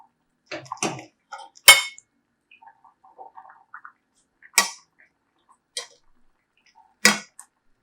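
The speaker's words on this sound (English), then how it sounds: "now so I'm going to add the prawns inside" Prawns dropped into a pot of Tom Yum soup with moringa, a few sharp clinks and taps of utensils against the pot with soft splashes between, quiet and close.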